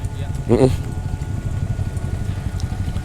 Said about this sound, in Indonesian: hujannya semakin lama semakin tebel